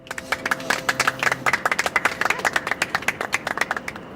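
A small group of people claps in a brisk, fairly rhythmic burst, the close, crisp hand claps continuing steadily with faint tonal background sound underneath.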